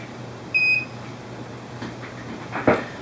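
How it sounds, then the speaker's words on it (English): A serial data receiver device gives a single short electronic beep, fairly close and clear against a quiet background with a low hum, followed by faint clicks and handling noise. "So it beeped, but it doesn't beep again, and it should."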